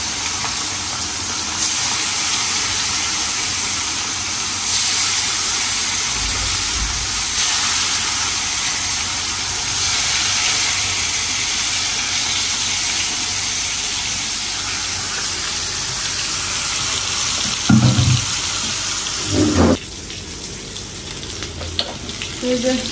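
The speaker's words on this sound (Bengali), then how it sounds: "প্রথমে আমি মাংসটা ভাইজা নিব।" Meat frying in a pan in a home kitchen, a continuous loud sizzle with bright hiss throughout, punctuated by a few clattering stirs and bumps near the end.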